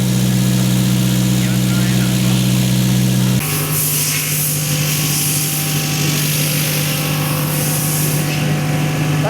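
A bus engine idles during a periodic service, giving a loud, steady low drone. Partway through, the tone shifts to a rougher, hissing rumble with a brief air-release sound.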